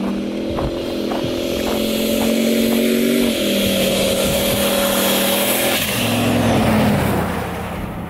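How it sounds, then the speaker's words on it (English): A boosted truck on studded tires made with drywall screws roars past at speed on an icy road, with a loud, rising engine whine and gear shifts building and then fading as it passes close by. "Literally looks like he's making a drag pass when he's going by."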